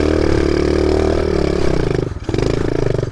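A video game motorcycle engine drones loudly and close in a steady rev, with a brief dip near the end before picking up again.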